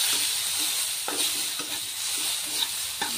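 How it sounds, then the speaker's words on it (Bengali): Semolina being stirred and fried in a pan for a spicy Bengali suji dish, with a steady sizzle and periodic scraping strokes of the spoon, close and loud. "ভালো করে এগুলো নেড়ে ভেজে নিতে হবে।"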